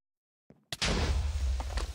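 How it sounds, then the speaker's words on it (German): After silence, a faint click precedes a sudden heavy boom in the modded Minecraft pack Agrarian Skies, followed by a rumbling, noisy blast tail. "Oh. oh. Explosion."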